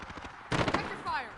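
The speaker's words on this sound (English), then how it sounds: "sentry gun online" A sentry gun fires in a Modern Warfare shooter game, a brief burst of quick close shots cutting through a faint electronic sweep, lasting under a second.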